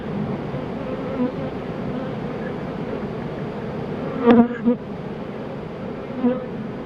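Steady buzzing of many honey bees around a hive, a dense continuous drone with a few brief closer passes standing out.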